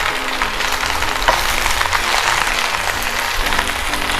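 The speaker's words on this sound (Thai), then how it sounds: "ต่อมาครับเราก็ผัด ในส่วนของกะลัำปีนะครับไปเรื่อยนะครับ" Cabbage stir-fried with pork in a hot pan gives a dense, continuous close sizzle with a constant hiss and faint stirring throughout, alone.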